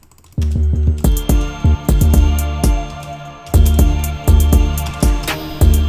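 A deep, booming 808 bass in FL Studio plays a repeating rhythmic pattern with punchy hits and short sustained low tones, loud and up front with beat elements over it.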